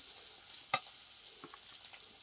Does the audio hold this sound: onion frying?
yes